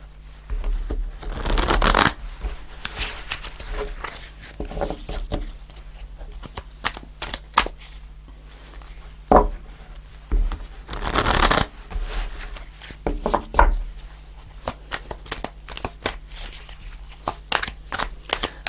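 Tarot cards being shuffled by hand at a reading table, several crisp riffling bursts separated by quieter handling and soft card taps, close and clear with no talking.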